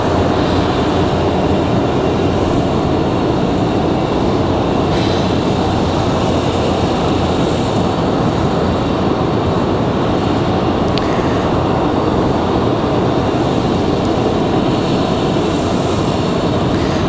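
A passenger airliner, Moxie 541 from Los Angeles, arrives at Raleigh-Durham International Airport as a loud, sustained jet engine roar that fills the whole stretch, with no talk.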